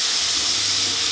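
Chopped tomatoes hit a hot pan of turmeric-spiced masala for a fish-head curry, giving a loud, steady, close hiss of sizzling that lasts throughout the brief moment.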